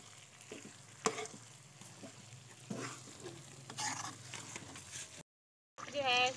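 Soaked semolina for halwa is stirred in a pan, with low frying crackle and intermittent spoon scrapes and taps close by, briefly cutting to silence before resuming.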